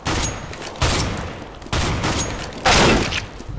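Dual pistols firing in CS:GO, four loud bursts of rapid gunfire about a second apart, each a dense broadband crack with a ringing tail, alone with no talk.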